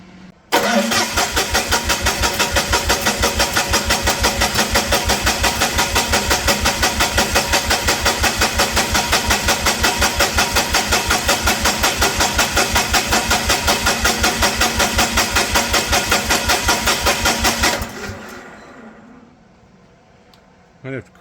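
A Lincoln SA250 welder engine cranks continuously for about seventeen seconds, a loud, fast rhythmic starter churn that never catches, then winds down to quiet.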